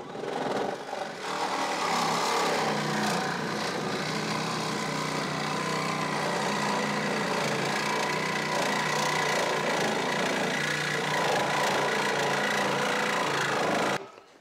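A reciprocating saw cuts steadily and loudly for about thirteen seconds, a harsh, continuous buzzing drone that starts abruptly and cuts off sharply at the end.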